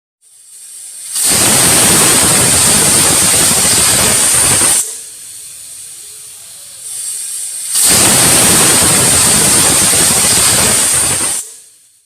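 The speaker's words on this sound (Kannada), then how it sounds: "ಎರಡು ವಿಷಲ್ ಆಗಿದೆ." A pressure cooker holding mixed vegetables lets off two loud, long whistling bursts of escaping steam, each lasting a few seconds, with a quieter hiss in the gap between them.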